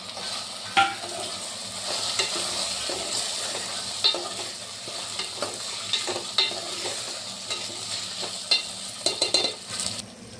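Taro roots fry with ginger-garlic paste and turmeric in a pan, a steady sizzle punctuated by repeated scraping stirs and occasional utensil knocks, close and without talk.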